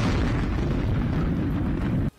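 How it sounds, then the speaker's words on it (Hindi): A bomb explodes on a beach in Berdyansk, Ukraine, a loud, broad roaring blast that rumbles heavily for about two seconds before cutting off abruptly into near silence. "यूक्रेन के बर्दियांस्क में अचानक हुए बम ब्लास्ट से दहशत मच गई"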